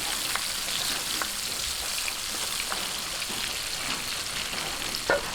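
Onion and garlic frying in oil for Ilocano igado give a steady, fairly loud hiss and crackle with scattered small pops, unbroken throughout and with no talking.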